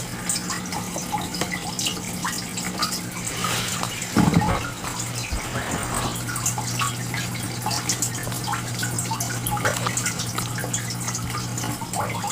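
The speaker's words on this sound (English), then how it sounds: "So there's water running down the side of this thing." Water runs and trickles steadily through the sprayers of a homemade aeroponics garden, a continuous close splashing hiss with a low pump hum beneath it.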